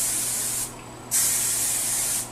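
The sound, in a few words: hairspray spraying onto hair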